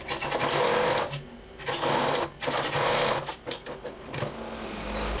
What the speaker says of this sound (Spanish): vamos a pasar una costura para fijarlo